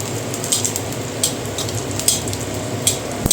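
Ginger, dried red chili, bay leaf and cumin crackle and sizzle in hot oil while dal is being tempered, a loud steady fry punctuated by sharp spattering pops and light utensil clinks.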